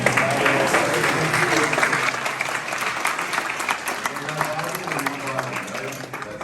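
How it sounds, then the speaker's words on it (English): An indie cinematographers' panel audience at Cine Gear in New York applauds steadily for several seconds, a thick, even wash of clapping that eases slightly toward the end. "I think that deserves a round of applause"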